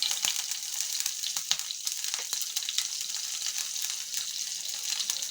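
Cumin seeds and green chilies sizzle in hot oil in a pan, a steady, bright crackling hiss that runs throughout with small scattered pops.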